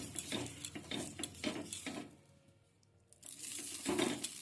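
Cut raw potato dipped in mustard oil rubbed across a hot griddle: soft rhythmic scraping and smearing strokes, close and moderately loud, pausing briefly midway before the strokes resume.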